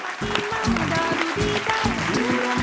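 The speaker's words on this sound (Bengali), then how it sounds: "জোরে হাততালি" Studio audience applauding on a Bengali family game show, a steady dense wash of clapping over a low musical bed, loud and continuous for the whole stretch.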